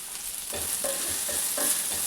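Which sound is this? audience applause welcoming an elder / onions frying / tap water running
onions frying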